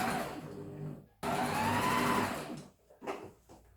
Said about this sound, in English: making sure there's no fabric underneath, I'm just sewing the beads on top